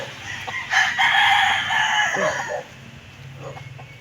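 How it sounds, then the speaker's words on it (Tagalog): A rooster among a seller's flock of chickens lets out one loud, close crow lasting nearly two seconds, followed by softer clucking and faint rhythmic clatter in the background. "Madami silang manok."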